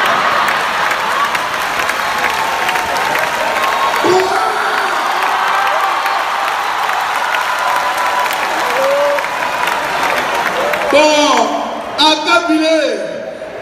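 A live show crowd applauding and cheering in a steady roar, with a voice speaking over it and a few whoops and shouts rising near the end.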